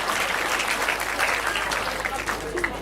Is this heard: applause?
yes